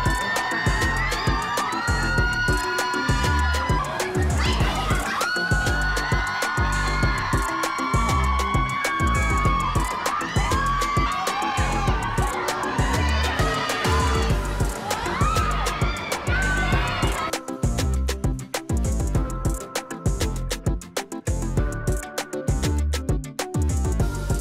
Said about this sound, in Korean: 지금 앞에 팀분들이 먼저 공연을 하고 계시는데 환호성이 진짜 어마어마합니다